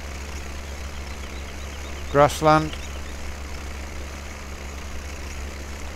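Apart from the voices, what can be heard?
tractor engine running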